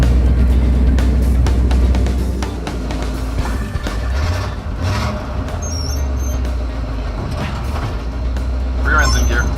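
Stubby Bob, a custom car, on its first test drive: a loud, steady low engine rumble dominates throughout, close and continuous, with people talking over it.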